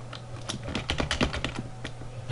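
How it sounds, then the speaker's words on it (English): Fingers typing account details on an iPod Touch, a quick uneven run of light clicking taps, close and quiet, with no talk. "so you're gonna type that in"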